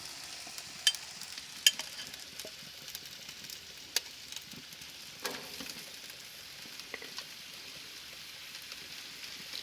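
Marinated meat sizzles faintly in a stir-fry on a grill. A soft, continuous hiss is broken by a few sharp pops and scrapes of stirring.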